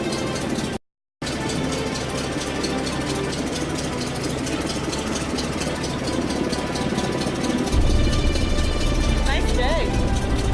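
Fan boat engine idling at Crystal River, a steady droning rumble with constant vibration that swells deeper and louder near the end, heard close and continuous with no break apart from a brief dropout early on.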